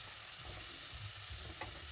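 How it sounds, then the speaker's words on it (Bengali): Shrimp and chicken pieces fry in a pan after onion and garlic, a soft, continuous sizzle with faint stirring scrapes, quiet and without talk. "এটা কিছুক্ষণ ভেজে নিচ্ছি একটু কালার আসা পর্যন্ত"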